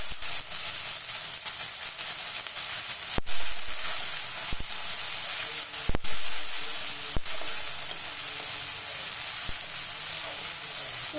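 Ginger garlic paste and garlic frying in oil, a steady close sizzle with a few sharp clicks of utensil stirring, no voices.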